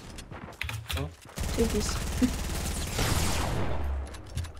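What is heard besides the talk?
gunfire in the video game Fortnite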